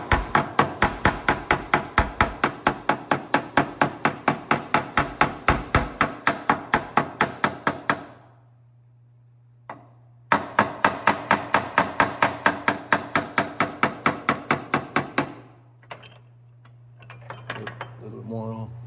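Hammer blows ring out on a car body panel backed by a dolly along a body line, a fast, steady run of sharp metallic strikes, then a pause and a second rapid run, with a low hum underneath.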